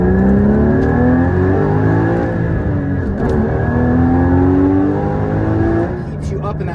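Car engine revving hard through a high RPM range, with rising harmonic pitch sweeps, loud and close throughout; the car is tuned with a COBB Accessport V3, and a voice shouts briefly over the engine.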